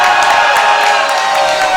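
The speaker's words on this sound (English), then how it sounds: "Sounds like the crowd is entertained tonight." A loud crowd at a live House of Champions wrestling show cheers and whoops steadily throughout, a dense close roar with scattered shouts, while a commentator calls the match.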